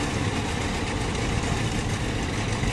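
A Winnebago motorhome engine idles nearby, a steady broadband rumble and clatter that stays even and fairly loud without revving.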